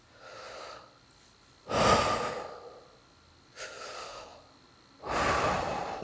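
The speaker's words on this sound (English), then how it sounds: "go over and breathe into your hands." Deep breathing aimed into the lower back during a vocal technique exercise: slow, close inhales and exhales in four distinct breaths separated by quiet pauses, with no talking.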